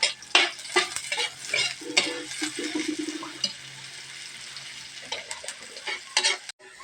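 Chicken feet dropping into hot oil in a pan, with bursts of crackling sizzle and stirring clatters, strongest early, then a softer steady fry punctuated by a few louder spits.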